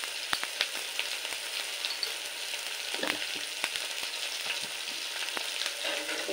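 Tomato, turmeric and salt frying for a fish curry, giving a steady bright sizzle with occasional soft spoon taps and stirring scrapes, fairly faint and with no voice.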